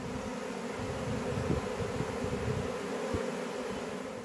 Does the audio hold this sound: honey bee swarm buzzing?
yes